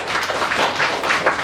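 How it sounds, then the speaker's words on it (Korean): Audience applause at a welfare center blessing ceremony in Jeju, a steady dense patter of many hands clapping throughout, fairly loud and even with no talking over it. "큰 박수 부탁드리겠습니다."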